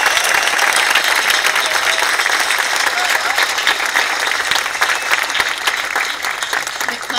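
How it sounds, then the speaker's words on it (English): A large audience at a zoo talk applauds and cheers for young people. The clapping is loud, dense and sustained, with crowd noise mixed in throughout. "So I want you to give them a cheer,"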